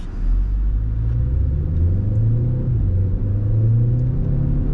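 A Hyundai Tucson 1.6 T-GDI engine running on LPG roars steadily with a deep, continuous rumble, revving hard as it pulls away from standstill and picks up speed, loud and close throughout.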